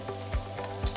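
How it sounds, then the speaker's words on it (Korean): Vegetables and cherry tomatoes stir-fry in a hot pot, giving a steady close sizzle broken by a couple of soft stirring scrapes and thumps. "채소들을 넣고 볶습니다"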